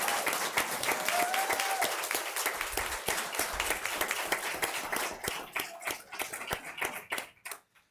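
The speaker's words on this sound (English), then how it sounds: "So let's give them one more round of applause" Audience applause at a school board meeting, a sustained burst of many hands clapping that carries steadily for several seconds before thinning out and fading toward the end.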